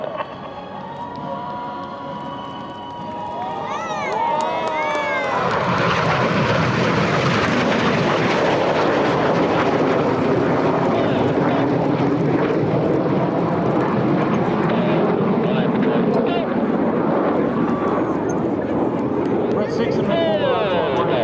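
RAF Red Arrows jets roar past in a flying display at EAA AirVenture 2026, starting quieter and swelling into a loud, sustained engine wash with a rising and falling pitch, while an announcer talks over it.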